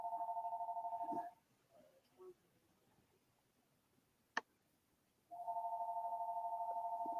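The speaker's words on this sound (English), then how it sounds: "with the phone in the background" A telephone rings in the background of an indoor talk, two long buzzing rings separated by a few seconds of near quiet with a single sharp click between them.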